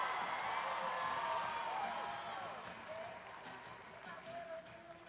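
Rodeo crowd at a barrel racing finals cheering a rider's run, a broad steady roar of voices and whoops that stays loud and then eases slightly toward the end.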